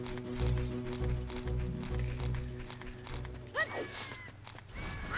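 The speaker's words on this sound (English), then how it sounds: "let's get a horse" Hooves clip-clop at a steady walking rhythm from a horse in The Legend of Zelda: Ocarina of Time 3D, with a neigh and game music tones near the end and no talking.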